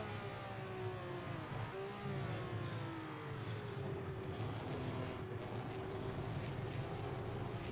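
Ferrari engine revving in Assetto Corsa, a raw, messy low-RPM roar with shifting pitch that stays loud and steady throughout, with no talk over it.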